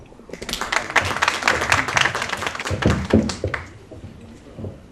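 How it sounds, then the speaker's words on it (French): An audience in a neighbourhood gathering claps in a short, uneven burst, with some close, sharp hand claps and thumps, fading after a few seconds. "Applaudissez cela."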